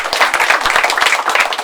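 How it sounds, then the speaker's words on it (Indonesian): A group claps together at an outbound training session for preschool and kindergarten teachers, a brief burst of quick, close, crisp hand claps in an uneven rapid rhythm. "tepuk tangan buat Anda semua"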